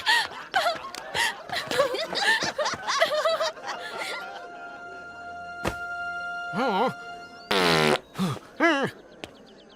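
A loud, brassy fart noise from a cushion blares out after a stretch of talking, followed by a few more wobbling squeaky blasts and laughter-like sounds.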